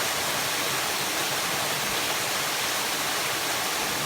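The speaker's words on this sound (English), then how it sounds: "this is the Spring Glen Buttermilk Falls." Spring Glen Buttermilk Falls in New York roars as a steady, loud, broadband wash of falling water, close and continuous with no talking.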